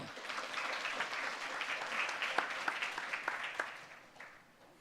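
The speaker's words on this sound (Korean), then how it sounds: "박수로 모셔주시기 바랍니다" An audience at a Busan maritime economy forum claps steadily as a research institute director is invited to present, a moderate, fairly distant patter of hands that thins and fades out toward the end.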